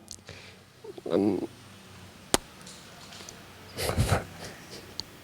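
A man imitates an eagle call with his voice, giving a short rasping cry followed after a pause by a louder, longer screeching burst, with a sharp click between them.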